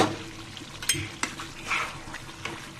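Mezbani beef curry stirred in a pot with Radhuni mezbani spice mix, a spoon scraping and clinking against the metal in a few distinct strokes over a low, steady sizzle of oil.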